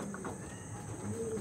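A Pulsar breed pigeon gives a brief, soft, low coo close by, over a faint steady background.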